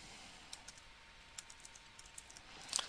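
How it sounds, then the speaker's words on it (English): Keys on a computer keyboard tap out a name in a quiet room, a run of faint, irregular clicks ending in a quick cluster of louder strokes. "So I type in the name of the macro from the Excel spreadsheet"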